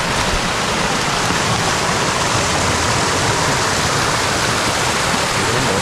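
Water rushes steadily beneath a frozen pond in a mountain valley, a continuous close, loud hiss and gurgle of flowing water with no pauses or voices.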